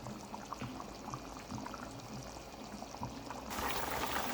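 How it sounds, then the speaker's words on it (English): Potatoes going into a pot of boiling lamb curry in a Guyanese-style home kitchen, giving a steady low bubbling and splashing that swells louder and brighter near the end, with no talking. "I'm adding my potato now so it can boil."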